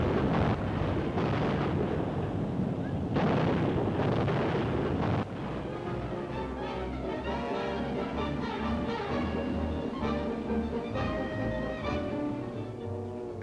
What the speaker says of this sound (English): A gun crew makes a direct hit.